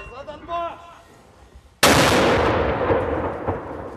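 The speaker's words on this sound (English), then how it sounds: "Inside the town, Ukrainian troops lobbing mortars and obscenities." Ukrainian troops fire a mortar inside a war-damaged former coal mining town: one sudden loud close blast with a long rumbling tail, after quieter background sounds and faint voices.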